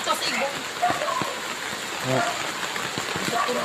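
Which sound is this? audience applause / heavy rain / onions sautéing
heavy rain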